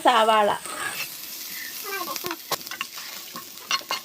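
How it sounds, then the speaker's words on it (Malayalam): Chopped onion stir-fries for semiya biriyani, sizzling in the pan while a spoon scrapes and clicks through it. A voice is heard briefly at the start and again near the middle. "ഇപ്പോൾ സാവാള അരിഞ്ഞത് ചേർത്ത് നമുക്ക് നന്നായിട്ടൊന്ന് മിക്സ് ചെയ്ത് കൊടുക്കാം"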